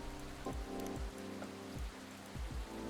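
Rain falls in the video game Coffee Talk 2, a quiet, steady patter layered over a soft low musical background with gentle repeating tones.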